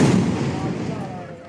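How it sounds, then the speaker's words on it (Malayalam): A temple firecracker offering (vedi vazhipadu) in Kerala: a sharp, loud blast at the start, then a rumbling tail that slowly fades. "ഇവിടുത്തെ പ്രധാനപ്പെട്ട വഴിപാടാണ് വെടി വഴിപാടെന്ന് പറയുന്നത്"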